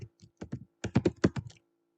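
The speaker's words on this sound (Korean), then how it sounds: "한 칸을 띄워야 하니까 스페이스 키를 하나 눌러서 한 칸을 띄우시고요." Keys on a computer keyboard are tapped in quick clusters while Korean text is entered in a word processor, one press being the space bar. The clicks are close, clear and isolated, with no talk.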